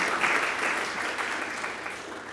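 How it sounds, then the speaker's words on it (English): An audience at a global health roundtable applauds the minister, a steady, moderately distant patter of many hands clapping that holds evenly throughout before thinning slightly at the end. "Round of applause for the minister."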